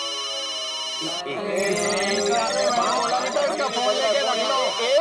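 A phone rings with a bright, repeating electronic ringtone over busy background noise and some voices.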